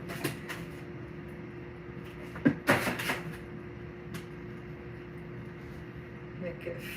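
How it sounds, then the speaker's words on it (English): A household freezer door opening and closing while food is put inside, a short cluster of clunks and rattles in the middle of a quiet room hum. "So now I'm going to put it in the freezer"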